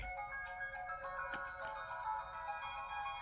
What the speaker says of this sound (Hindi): सॉरी सर, माँ का फोन है।